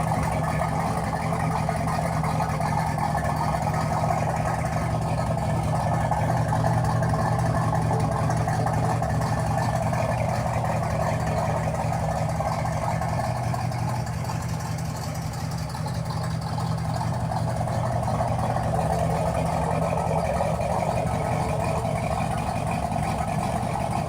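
A 1971 Corvette idles through an Eckler's exhaust, a steady low rumble holding even for the whole stretch with only slight swells in level and no voices.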